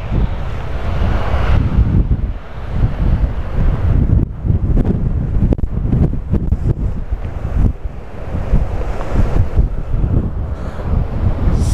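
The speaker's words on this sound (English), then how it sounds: "So it's blowing a gale." Gale-force wind blowing at a coastline in south-west Western Australia, roaring and buffeting the microphone in loud continuous gusts with sharp rumbling thumps, and surf faintly beneath.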